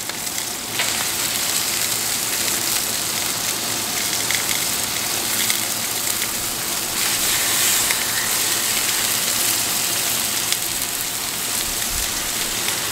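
Bone-in pork chops sizzling on a grill, a loud, continuous crackling hiss with scattered pops, close and steady throughout, with no talk over it.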